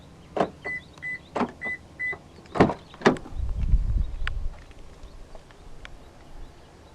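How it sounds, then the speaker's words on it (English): A quick series of mechanical clicks and thunks from the door locks of a 2019 Perodua Aruz 1.5 X, operated by a handle button, with a couple of short chirps, followed by a low whirring rumble. "press the black button once to unlock the driver's door and press it a second time to unlock the rest of the car"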